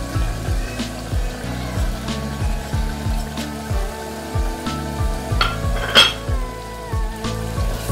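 Spices stirred into a coarsely mashed mixture in a frying pan for a dhaba-style boneless chicken handi, giving a soft, steady sizzle and scraping under louder background music.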